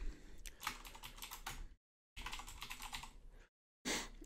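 Text is typed on a computer keyboard in quick, close clicky keystroke runs, broken by two short silent pauses before a final burst of keys.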